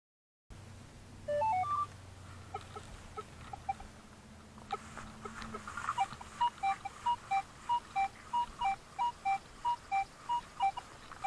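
A Minelab Equinox 800 metal detector gives target signal tones: a few rising beeps, then a regular series of short repeated beeps over a soft background hum as the coil sweeps.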